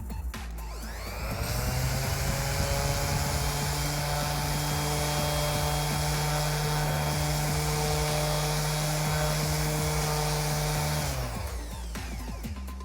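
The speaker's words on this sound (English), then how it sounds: "So just turn the sander on and gently, with good pressure, and hold it onto the piece." A handheld electric power sander runs steadily against a wooden workpiece in a woodworking class, a loud continuous motor whine with grinding texture that starts up, holds for about ten seconds, then winds down.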